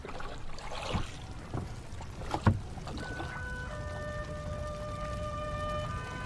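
Oars dip and splash as a rowing boat moves along a river; a few soft strokes at moderate distance, then a calm watery ambience with faint tonal hums.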